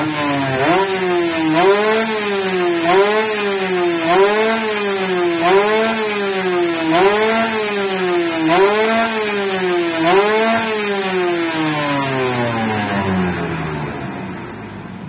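A motorcycle engine with an aftermarket CDI ignition revs hard on a dyno, climbing and dropping in about seven repeated high-RPM sweeps, loud and close with no talking.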